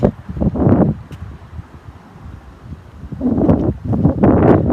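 Heavy wind buffets the microphone in low, rumbling gusts, easing briefly in the middle before blasting again; no voices.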